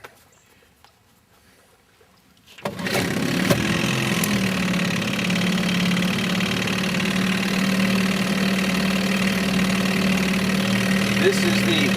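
After near silence, an Evinrude 4hp Excel outboard motor in a water test starts abruptly and settles into a steady, close, loud idle with a constant buzzing drone.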